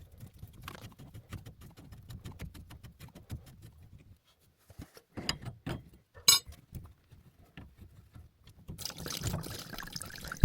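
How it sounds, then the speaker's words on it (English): Water from a heating system trickles and dribbles into a bucket during a repair, a close, irregular patter with occasional clinks and short pauses. "Here you can see there's a little bit of water going into the bucket, nothing too bad."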